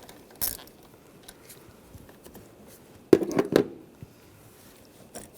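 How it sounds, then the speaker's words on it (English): A socket wrench works loose a nut at the battery's negative terminal on a 2011-2018 RAM 1500 with the 3.6L V6, one brief click early, then a short cluster of close ratcheting clicks over faint background noise. "Loosen up the nut."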